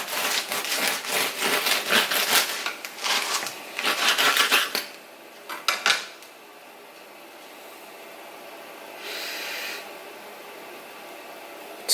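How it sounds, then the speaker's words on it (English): A knife saws through a crusty, slightly underbaked homemade sourdough loaf, giving a run of dry, crackly rasping strokes for several seconds, a couple of short scrapes after a pause, then a faint brush. "I think I'm just gonna cut right into it."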